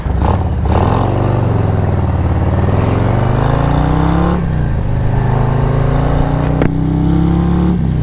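A 2022 Harley-Davidson Road Glide motorcycle in sport throttle mode accelerates hard and loud, its engine note climbing steadily through a long pull, easing briefly, then rising again.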